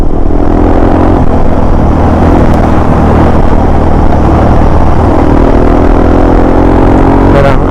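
A Yamaha TW200 motorcycle rides a dirt trail, its engine a loud, continuous, close drone with a steady rumble and a slight rise near the end.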